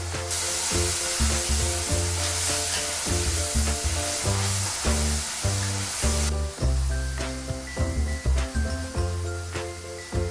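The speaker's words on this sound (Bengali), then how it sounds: "আদা রসুনের পেস্টটা একটু নাড়াচাড়া করে দেবো যতক্ষণ না কাঁচা গন্ধটা চলে যায়।" Ginger garlic paste stirred in hot oil while mutton keema is being made, a loud broad hiss that fades after a few seconds, partly masked by rhythmic background music.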